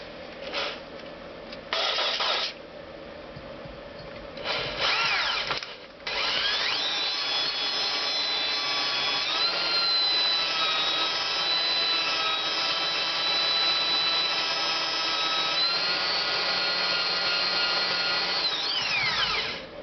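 A power grinder wears material away from a Honda CX500 engine part, giving a loud, steady, high whine for most of the stretch. A few brief stops and restarts come early on, and no one talks.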